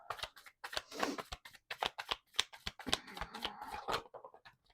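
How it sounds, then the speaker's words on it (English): A deck of oracle cards shuffled by hand in a quiet room, with rapid crisp riffling bursts and slaps repeating in an uneven rhythm, close and clear, with no talking. "let's pull a card for Leo for this January healing"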